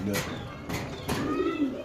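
A pigeon coos repeatedly in low, throaty calls nearby, with faint voices in the background.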